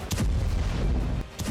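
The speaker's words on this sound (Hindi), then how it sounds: "हिजबुल्लाह ठिकानों पर भीषण बमबारी की है।" Heavy bombardment of Hezbollah positions in Lebanon: loud, dense rumbling booms and blasts run almost continuously, with a brief dip before another burst.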